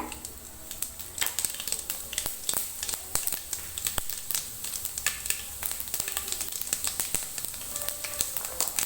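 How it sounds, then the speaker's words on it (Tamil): Mustard, fenugreek and cumin seeds drop into hot oil and sizzle, with sharp crackling pops over a steady frying hiss that keeps going without a break. "இப்போ நம்ம கடுகு போடுறோம். வெந்தயம் சீரகம் வந்து போடுறோங்க."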